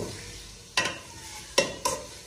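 A pan of food in a Pakistani village kitchen is stirred with an improvised utensil instead of a spoon: three short, close scraping strokes over a faint sizzling background, with no talking.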